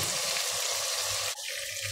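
Pieces of chicken frying in a pan of hot oil, a steady dense sizzle and crackle that stays loud throughout, with a brief clink or stir near the end.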